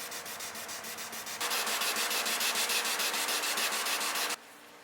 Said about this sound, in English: use a 3-inch 3M 1500 sanding disc with the same KXK Dynamics backing blades here